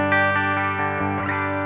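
An electric guitar played through a Kemper liquid profile of a Fender Deluxe Reverb normal channel, a sustained clean chord that rings steadily and loudly, briefly re-struck near the end, alone without talk.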